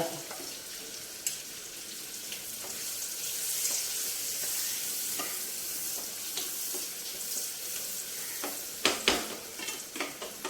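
Chopped onion with green chilies sizzles steadily in a hot pan, with occasional scraping stirs, while cooking for a cabbage and dondakaya lentil dish. The sizzle is soft and continuous, and a few sharper clatters come near the end.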